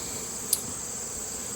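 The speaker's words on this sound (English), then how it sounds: "Before I have too many bees around me" Honey bees buzz around a hive during hive testing and treatment outdoors, a faint steady insect drone with one brief brighter whine passing close, no talking.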